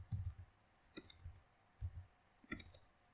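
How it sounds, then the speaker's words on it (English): Typing on a computer keyboard, with short scattered clusters of soft key clicks and pauses between them, close and quiet. "okay, let me type"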